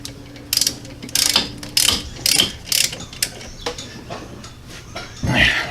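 Short bursts of ratchet clicking as a caliper bolt on a Hyundai Sonata's front brake is snugged down, several quick rhythmic strokes close up, with pauses between and a final longer pull.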